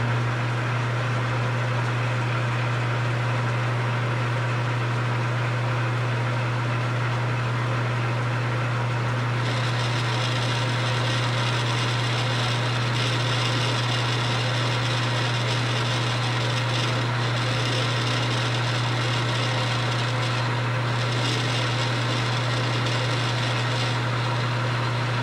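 A machine tool makes a continuous cut on the frame of an 1880s steam drilling engine, a steady loud drone with a strong low hum that brightens partway through and stays constant for about 25 seconds.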